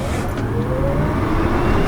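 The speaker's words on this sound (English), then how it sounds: "I want to try a little launch with this thing." A 2015 Tesla Model S P85D launching hard in Insane Plus mode, a loud, close electric motor whine rising steadily with heavy road and wind roar.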